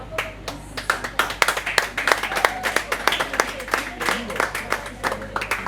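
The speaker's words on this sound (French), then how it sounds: "Sous vos applaudissements" Audience claps for a first-prize winner at a World Book Day celebration event, a steady burst of many hands with sharp individual claps standing out, filling the whole stretch at moderate loudness with no talk over it.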